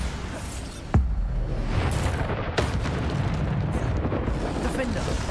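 Bombarda spell explosions from the video game Hogwarts Legacy, with a sharp blast near one second and another around two and a half seconds over a dense, rumbling stream of combat effects and crackling debris.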